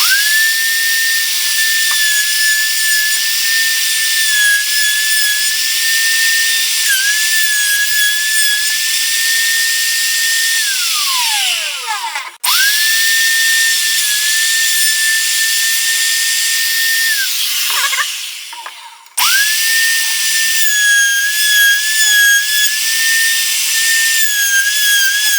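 A woodworking router with a guide bushing cuts a hole in a wooden arcade stick panel. Its motor gives a loud, steady high whine that dips sharply twice as the bit bogs down or spins down, then returns to full speed.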